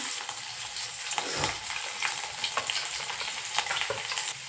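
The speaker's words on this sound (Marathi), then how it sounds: "लसूण छान तडतडला" Garlic and cumin crackling in hot oil in a pot, a close steady sizzle with sharp intermittent pops and crackles.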